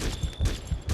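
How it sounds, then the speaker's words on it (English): Sniper rifle shots in the game Conflict: Global Storm, several sharp booming reports spaced roughly evenly within a second, loud and close with no talk. "with a sniper, he should be able to take out that dude."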